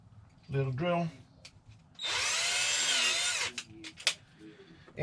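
A power drill bores into hardwood during popup truck camper repairs, one sustained high whine lasting about a second and a half, with someone talking before it and a few short knocks after.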